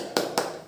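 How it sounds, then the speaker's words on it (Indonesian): Two sharp, close hand claps in quick succession from students doing a spirit clap during a primary school religion lesson. "mari kita tepuk semangat terlebih dahulu."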